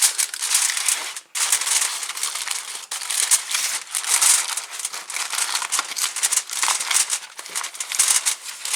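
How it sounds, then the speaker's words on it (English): Aluminum foil crumpled and rolled around the edges of a device as a Faraday shield; continuous close crinkling and crackling with brief pauses, loud and alone. "And roll it around the edges just like you're going to bake something in the oven with it."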